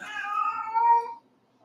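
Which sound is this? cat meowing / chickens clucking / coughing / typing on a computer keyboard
cat meowing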